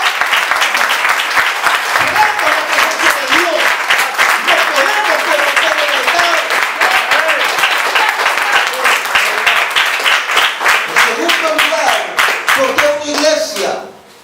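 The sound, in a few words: church congregation applauding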